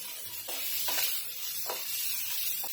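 Paneer pieces frying lightly in a pan with salt, turmeric and Kashmiri red chilli powder, a soft continuous sizzle broken by four scraping stirs at roughly even intervals, nearby and without speech.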